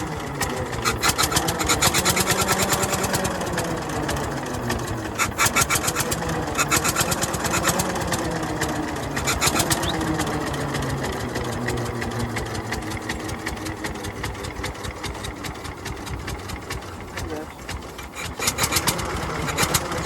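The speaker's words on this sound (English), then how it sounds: "So the engine's stone cold there, so obviously it needs to warm up." A cold 1911 Maxwell car engine runs with a rapid, rattling mechanical chatter, steady and close, its pace and loudness staying fairly even throughout with slight surges.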